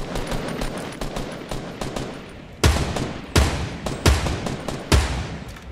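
Sniper rifle shots in Fortnite Battle Royale, a few loud, sharp cracks spaced about a second apart, following a stretch of quicker, lighter gunfire in the background.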